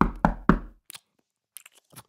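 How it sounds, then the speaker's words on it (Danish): Three hard, evenly spaced knocks on a door land close and loud, then give way to quiet with a few faint small noises. "Pludselig banker det hårdt på døren."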